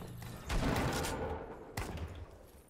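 Two heavy shotgun blasts from the Fortnite video game, each a sharp boom with a long decaying tail, coming over a second apart and loud in the mix.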